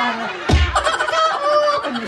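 A person mimics a rooster's crow with the voice, one loud rising then drawn-out wavering call close by, with other voices in the background at a birthday gathering.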